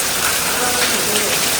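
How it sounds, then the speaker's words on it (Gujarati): Heavy rain pouring at night, a loud, dense, unbroken hiss of drops on surfaces, close and steady throughout. "હવે ધીરો પડી ગયો છે વરસાદ"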